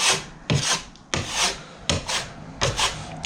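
A 6-inch putty knife spreads filler across a wall being rebuilt with extra insulation, giving four or five broad scraping rasps at a steady pace, close and fairly loud, with no voices.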